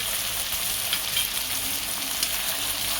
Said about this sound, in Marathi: कांदा, टोमॅटो, मिरची, लसूण चांगला परतलेला आहे.